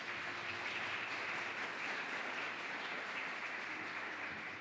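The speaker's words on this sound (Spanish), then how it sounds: "denle un aplauso al Señor por eso" Worshippers clap for the Lord during a Spanish-language church sermon, producing a continuous, even patter of applause that holds steady throughout without rising or fading.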